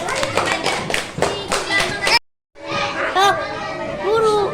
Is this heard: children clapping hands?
yes